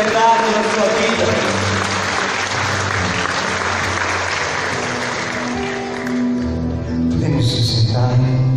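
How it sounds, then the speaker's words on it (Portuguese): A church congregation applauds steadily and fairly loudly for several seconds, a dense wash of many hands clapping, with some voices and a musical tone rising toward the end. "Pode aplaudir essa verdade na sua vida."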